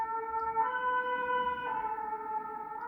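An emergency vehicle siren sounds outside, a steady high wailing tone heard at a distance, fairly faint but continuous, with no voices present.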